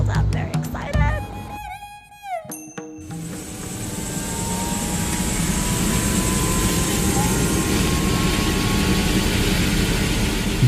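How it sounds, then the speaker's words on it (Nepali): Heli Everest helicopter in flight, a steady loud rotor and turbine roar that fills most of the clip after a few seconds of brief electronic beeps and clicks at the start. "we're riding on Heli Everest, the ever so helpful Heli Everest"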